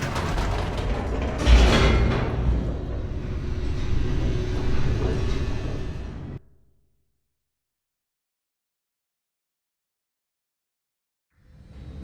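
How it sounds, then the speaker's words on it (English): An elevator plunging downward in the video game The Stanley Parable gives a loud, steady mechanical rumble and rattle for about six seconds, then cuts off abruptly into silence before a faint sound returns at the very end. "The elevator raced downward, plummeting towards an unknown fate."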